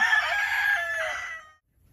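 A Rhode Island rooster crows once on a farm, a loud, close cock-a-doodle-doo lasting about a second and a half before it breaks off into quiet.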